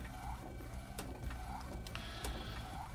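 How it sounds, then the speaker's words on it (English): A McLaud MP1812 DTF printer runs in continuous printing, a steady mechanical whir with soft periodic clicks and carriage passes, fairly quiet, with no speech. "so this is the printer"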